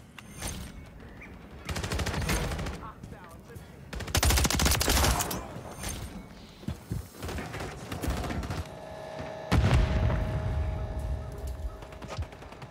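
Rapid automatic rifle bursts from an MTZ 556 in Call of Duty MW3 crackle in repeated volleys across the clip, loud and near, with scattered single shots and a faint steady tone between bursts.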